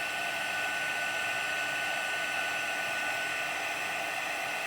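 A heat tool blows a steady, continuous stream of hot air while heat embossing a gold image on a Christmas craft card, a constant whooshing hum at close range with no break.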